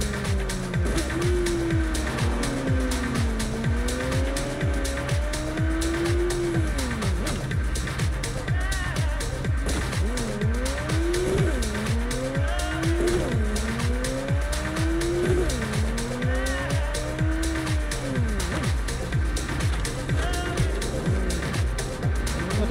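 Car engine in Cyberpunk 2077 revving through gear changes with repeated rising and falling tones, broken by bursts of tire squeal as a Supra cuts across, steady and close throughout with a voice talking over parts of it.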